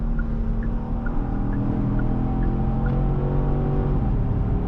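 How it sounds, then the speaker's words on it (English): A Genesis GV70 engine drones and shifts down as the SUV brakes, a steady close rumble with changing tones and a few faint chimes, no voices. "we're getting some downshifting under braking"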